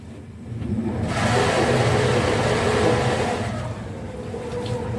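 Electric drive motor propelling the narrowboat Ash in reverse on a river, a steady mid-low hum and water churn that swells and holds at moderate loudness before easing slightly, with no talk.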